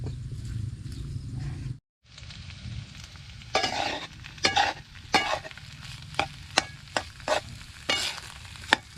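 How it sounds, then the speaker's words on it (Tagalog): Macapuno jam cooks in a pan while a spoon keeps stirring it, giving a brief low rumble, a short pause, then a run of scraping stirs and soft clacks over a quiet sizzle. "hindi natin titigilan ng halo"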